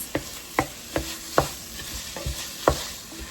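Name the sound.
ground beef and onions cooking in sauce in a pan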